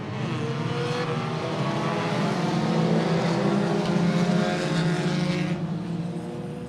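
Hornet class race cars roar together around Willamette Speedway during a feature race, a loud, steady wall of engine noise that swells slightly midway and holds throughout.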